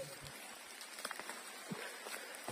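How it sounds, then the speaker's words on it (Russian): Steady light rain patters on surfaces outdoors beside garden beds, with scattered drops tapping near the microphone throughout. "и дождь разошелся"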